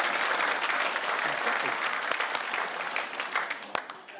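A television panel show studio audience claps loudly and steadily, a thick wash of applause that fades out near the end, with voices underneath.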